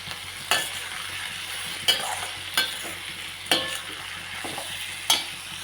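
Ginger and garlic with onion and green chilli sauté in a pan for mutton chukka, giving a steady soft sizzle broken by about six sharp scraping stirs of a spoon.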